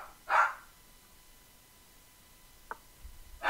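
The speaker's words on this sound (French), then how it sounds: "vous m'entendez mon chien aboyer" A dog barks a couple of times at a distance, short sharp yelps separated by a long quiet gap, with a faint click between them.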